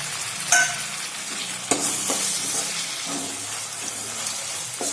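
Chopped medium tomato dropped into a pan of sizzling garlic and onion, steady frying hiss with a couple of sharp clatters of stirring, close and alone without talk.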